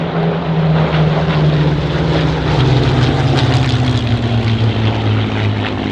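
Hawker Hurricane and Supermarine Spitfire fighters flying past at an airshow, a loud, sustained piston-engine propeller roar whose pitch slides downward as they pass, with no talk.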